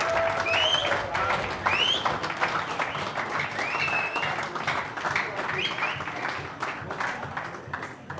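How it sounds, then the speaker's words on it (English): Scattered applause from the crowd at a GB9 Ball Tour nine-ball pool final, a dense patter of clapping throughout with voices and whistles mixed in. "massive round of applause again for Fraser Patrick"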